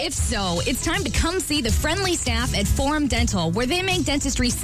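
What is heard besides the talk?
No everyday noises stand out.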